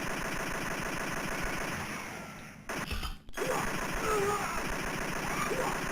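Arcade gunfire from Operation Wolf: continuous rapid machine-gun fire with explosions and game music, loud and dense throughout, broken by a brief gap near the middle.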